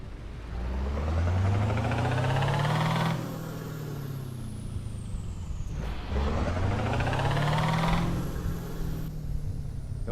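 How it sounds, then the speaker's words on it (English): Snub-nosed truck with a big V8 engine in Euro Truck Simulator 2, revving up in two long pulls with the pitch climbing and then dropping as gears shift, a loud steady drone between. "it's got a big honking V8 sitting under there"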